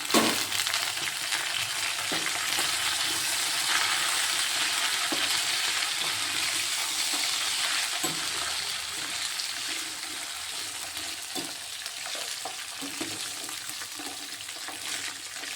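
Ridge gourd peel sautés in a pan for a Tamil chutney, a loud continuous hiss of frying with intermittent scraping stir strokes nearby, steady throughout and free of speech.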